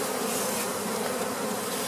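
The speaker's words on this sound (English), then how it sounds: "Oh, bees. This is a pretty healthy hive" Honey bees buzz steadily at a healthy first-year backyard hive fitted with flow frames, a dense, continuous hum close by, with no talking.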